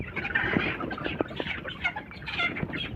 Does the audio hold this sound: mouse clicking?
no